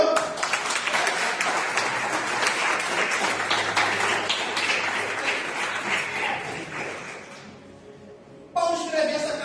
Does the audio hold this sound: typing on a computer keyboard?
no